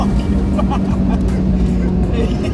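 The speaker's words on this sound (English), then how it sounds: "So it's quite loud revs, quite high revs." Ford Puma engine revved hard to high RPM, a loud sustained drone heard from inside the car with steady low rumble, with people talking over it.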